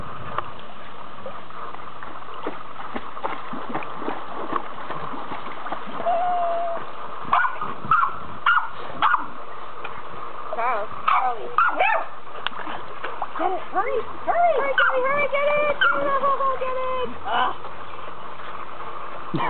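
A dog paddles in a backyard swimming pool, splashing and letting out yelps and barks, while people talk and call out over the water.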